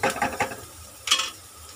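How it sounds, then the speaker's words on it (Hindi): Chopped onion frying in a pan for beetroot sabji, with a soft sizzle and a few stirring scrapes and utensil clicks against the pan, heard up close without talk. "कांदा फ्राई हो"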